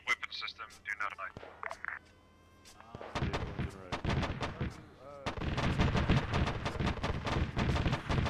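Heavy weapon system firing in Arma 3, a rapid string of sharp, booming shots that grows loud and dense in the second half, with people talking over the first part.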